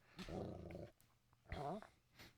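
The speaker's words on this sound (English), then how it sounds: "Is that doggy crying somewhere" Dog whimpering and crying in the video game Okami HD, two drawn-out whining yelps with a fainter third cry trailing off, moderately loud and with no talk over it.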